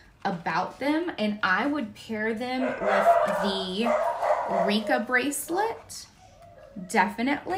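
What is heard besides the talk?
dogs barking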